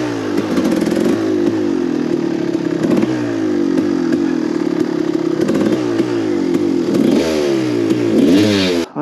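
Harley-Davidson Panhead motorcycle engine idling in a garage, a steady loping rumble with uneven firing pulses and slight rev swells, loud and close throughout.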